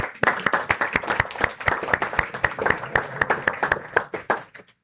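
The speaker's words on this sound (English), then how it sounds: "give a round of applause to the volunteers who make these things possible" An audience claps steadily for the volunteers at a talk, a dense run of many hands applauding that holds for several seconds, then thins out and fades at the end.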